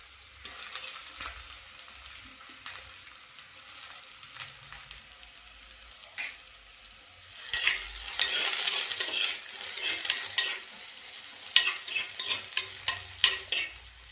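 Chopped onions sautéing in oil after mustard seeds have popped, a fizzing sizzle that swells louder midway, with scraping stirs and occasional clinks of a spoon on the pan.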